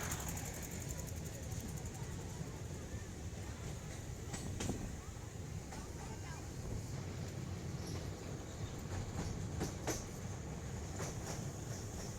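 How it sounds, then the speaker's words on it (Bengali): A passenger train crossing the long Farakka bridge gives a steady rolling rumble with periodic clanks from inside the carriage, moderately loud throughout as a person speaks over it. "আমাদের ট্রেনটা এখন ফারাক্কা ব্রিজ ক্রস করছে"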